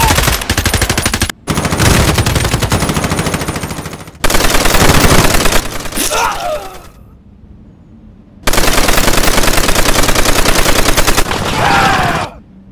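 Rapid machine gun fire rattles in long, loud bursts during a stop-motion plastic toy army men battle, with sharp gaps between volleys and a brief lull mid-way.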